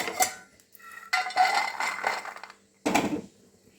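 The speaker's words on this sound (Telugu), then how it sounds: "ఇప్పుడైతే మన పల్లీలు వేగిపోయాయండి వీటిని ఇప్పుడు మనము ఒక ప్లేట్లోకి తీసుకుందాము" Roasted peanuts are scraped from a cooking pan onto a plate while making palli pachadi for dosa. Three separate bursts of rattling and scraping metal sound up close, with short quiet gaps between them.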